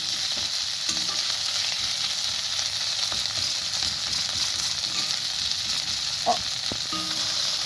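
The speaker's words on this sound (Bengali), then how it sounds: "মশলাটাকে ভালোভাবে কষিয়ে নিব" Spice paste frying steadily in hot oil for a Bengali meat curry, a constant close sizzle with occasional stirring scrapes and clicks of a spoon against the pan.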